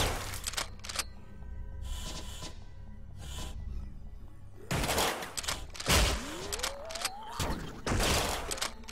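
Gunfire in the indie twin-stick shooter Utopia 9: scattered sharp shots and short bursts with a rising whine effect, moderately loud game sound with no voices.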